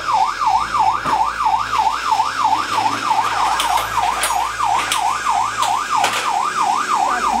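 An ambulance siren wails steadily, its rising and falling tone cycling evenly and loudly throughout, close by over traffic rumble, during a rescue of a girl from a well in rural Aleppo, Syria.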